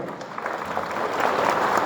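Audience applause at an outdoor Epiphany (Vodokhreshche) gathering in Berdychiv, Ukraine, building from a scattered patter into steadier, fuller clapping over about two seconds, with no voices on top.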